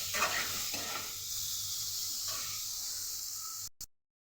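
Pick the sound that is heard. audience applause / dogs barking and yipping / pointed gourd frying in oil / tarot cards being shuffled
pointed gourd frying in oil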